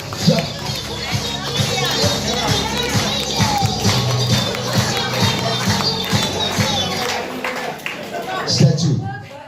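A crowd of people, children among them, jumping at a birthday party, with rhythmic thumps of feet landing over loud cheering and chatter throughout.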